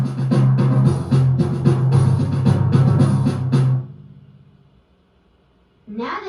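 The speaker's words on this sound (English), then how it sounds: "Percussion instruments are hit with a stick or a hand to make music." Percussion plays, with drums struck in a quick, busy rhythm under bright cymbal crashes for nearly four seconds. It is loud and close, then cuts off and decays before a voice briefly starts.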